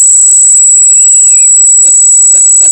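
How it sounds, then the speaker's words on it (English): Cicadas buzz in a loud, unbroken, high-pitched drone near a shooting range, with faint chirps and brief calls scattered through the steady whine. "It's a cicada attack."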